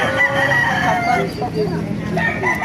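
A Golden Boy Sweater gamefowl rooster crows with a long, loud, harmonic call near the listener, with other fowl clucking and farmyard bustle filling the background.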